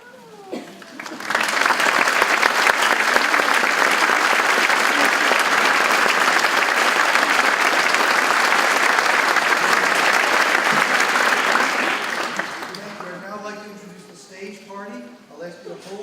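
An audience at a medical school white coat ceremony applauds faculty and staff, a dense, loud wall of clapping that holds steady for about ten seconds, then fades out as a voice begins speaking.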